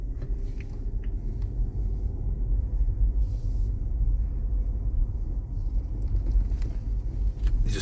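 A car rolling slowly through the small town of Nenana, Alaska, past a health clinic, heard from inside as a steady low engine and road rumble with occasional faint knocks and clicks.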